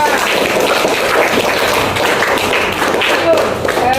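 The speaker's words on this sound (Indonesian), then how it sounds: "Tepuk tangan dulu untuk kelompok 2." A classroom of students claps for group 2, a dense, steady burst of many hands applauding together up close, lasting several seconds.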